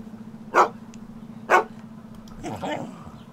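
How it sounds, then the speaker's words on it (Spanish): A small dog barks twice, evenly spaced, then gives a softer, drawn-out whine over a low steady hum. "Mira, si es la mascota de Raquel y Hugo, el perrito."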